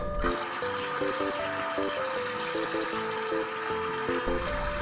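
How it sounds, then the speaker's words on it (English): Water runs steadily from a faucet into a sink as a toy carrot is rinsed with an orange sponge, a constant close splashing flow over faint tonal toy music, with no talking. "So let's turn the faucet off so we don't waste water."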